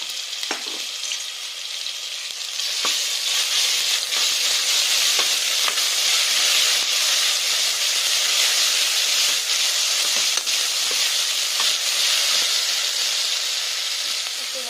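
Ginger garlic paste sizzling steadily in hot fat while frying for ghee rice, a loud continuous hiss with occasional pops and faint stirring clicks close up.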